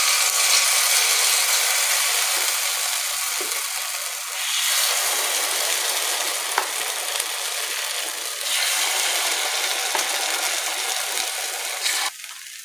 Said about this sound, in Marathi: तेल टाकूया, जे आपण मिश्रण तयार करून घेतलेलं आहे ते या सर्व वाट्यांमध्ये टाकूया